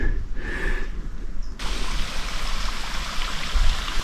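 A river flows steadily in a remote gulf, its broadband rushing hiss close and continuous. A sudden shift partway through makes the water sound brighter and louder. No one talks.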